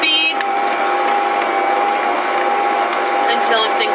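An electric mixer runs on low speed through cookie dough with chocolate chips, giving a loud, steady motor hum with a grinding, rattling edge that holds throughout at close range.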